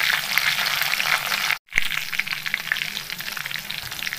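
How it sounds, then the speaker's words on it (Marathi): Cumin seeds and garlic fry in hot oil for an egg bhaji, giving a steady close sizzle and crackle with a brief break near the middle and no talking. "आता त्याच्यात 1/2 चम्मच जिरं पण छान असं तळून घ्यायचं आहे"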